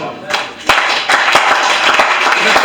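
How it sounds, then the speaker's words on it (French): A congregation claps and cheers during a church sermon, with sharp, loud claps over a continuous wash of applause and voices, close by. "Quelqu'un qui acclame bien."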